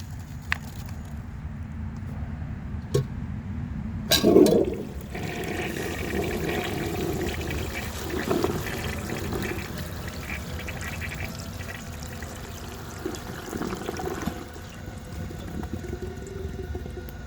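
A 1930 Eljer Sanus toilet flushes foam packing peanuts, with a sharp clunk of the handle followed by a rushing, gurgling flow of water that continues steadily at moderate distance, with occasional knocks.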